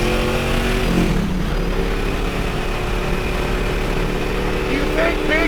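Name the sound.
Ford Mustang V8 engine revving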